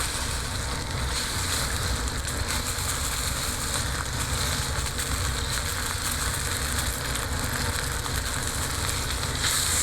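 A 1-inch, 12 to 14 ounce strip steak searing fat-cap down in a hot pan: loud, dense, continuous sizzling and crackling with no talk over it.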